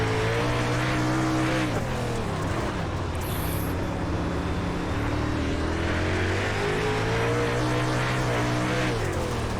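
Dirt late model race cars from a World of Outlaws event at Lanier National Speedway in iRacing, engines droning loud and steady with pitch rising and falling as they wind up through the corners, no talk.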